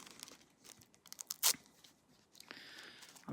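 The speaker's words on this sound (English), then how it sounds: "Just cut out your little shapes" Paper being snipped and crinkled close by as small shapes are cut from tissue paper for cherry blossoms: a few quick, sharp cuts and rustles with short gaps between them.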